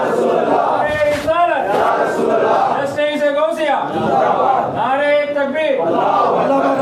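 A crowd at a religious gathering shouts chanted slogans, Nara-e-Takbeer, in loud, repeated call-and-response waves, voices swelling together in several rhythmic bursts close by.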